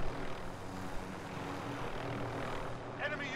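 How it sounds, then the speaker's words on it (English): Helicopter in a multiplayer first-person shooter, a steady rotor and engine drone held throughout at moderate level under game noise. "I got another chopper over here."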